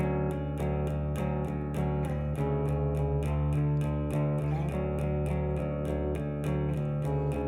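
An electric guitar strums a song's chord progression in steady downstrokes, sustained and slightly distorted, loud and close with no voice.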